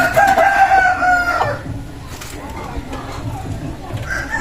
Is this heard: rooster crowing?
yes